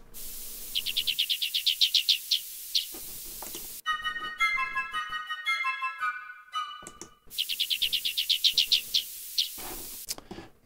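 Recorded songbird, the species that inspired a Messiaen piece, delivering rapid trills of bright, evenly spaced chirps, a middle stretch of varied, jumbled warbling notes, then more quick repeated trills, clear against a quiet background.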